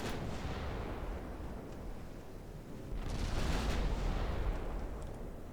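Heavy naval gunfire rumbles from warships in the naval combat game Ultimate Admiral Dreadnoughts, a continuous low booming roar with a louder swell of blasts midway, no voices.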